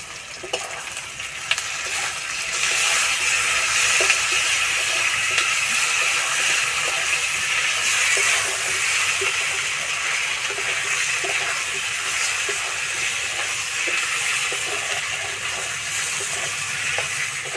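Ginger-garlic paste hits a hot pan while cooking a duck egg and new potato curry, bursting into a loud, steady hiss and crackle that holds for the whole stretch with no talking.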